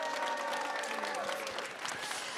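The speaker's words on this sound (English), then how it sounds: "Final round of applause for yourselves and for these puppeteers." An audience applauds after a puppet cabaret at the Logan Center in Chicago, dense steady clapping filling the room, moderately near, with a few voices mixed in.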